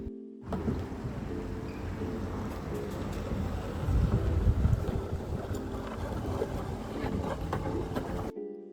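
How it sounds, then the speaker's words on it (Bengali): A boat glides along a river in Oxford, with a steady low hum and wind rustling the microphone throughout, and no voices. "ওভারঅল বোট রাইডটা ভীষণই পিসফুল ছিল"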